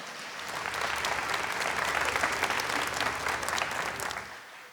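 A church congregation applauding during Mass, a rising then fading wave of steady clapping from a large crowd, a few seconds long.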